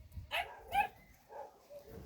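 A small pet dog barks a couple of sharp times close by on a farmyard, with short yips and a soft whimper between the barks.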